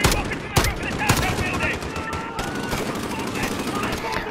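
Call of Duty: Modern Warfare (2019) gunfire on a London Bridge mission, steady automatic bursts with sharp louder shots near the start, close and dense, with a person talking faintly underneath.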